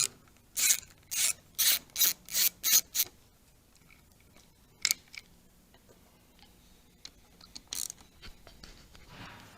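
A T27 Torx driver loosens the screws on a motorcycle brake master cylinder, giving six quick, evenly spaced rasping clicks close up, then a few scattered single clicks with quiet gaps between.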